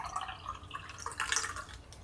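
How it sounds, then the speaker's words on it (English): Cold brew coffee is poured into a glass, a soft trickling and dripping splash lasting about two seconds, close and fairly quiet. "just pour you up a nice little glass of Joe"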